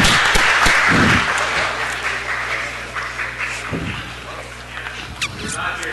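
City council chambers fill with applause welcoming UCLA Bruins visitors. Loud clapping at the start fades into scattered claps and murmuring voices.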